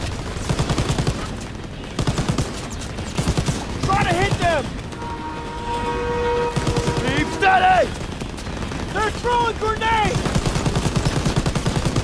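Rapid bursts of video game gunfire crackle repeatedly on a train, loud and close, with electronic whooshes and tones between volleys.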